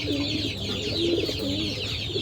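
Giribaz pigeons including a red male, soft throaty cooing and low murmuring calls repeating close by over a busy background.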